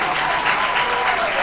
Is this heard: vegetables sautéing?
no